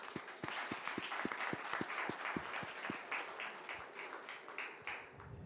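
An audience at an interfaith development panel event applauds warmly, with many hands clapping in a steady sustained patter that thins out toward the end, heard somewhat distant in a hall.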